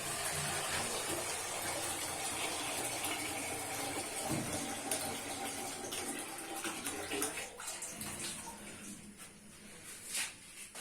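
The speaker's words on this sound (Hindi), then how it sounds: "उसके लिए पानी डाल लेंगे।" Water pours steadily into a pot to make sugar syrup for semolina halwa in a home kitchen, a close gushing splash that thins and trails off into scattered drips and clatter near the end.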